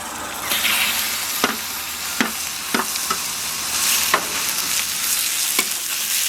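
Steak for a Philly cheesesteak sears in a frying pan, a steady broad sizzle with several sharp clicks as it is moved and stirred around, close and loud with no talk.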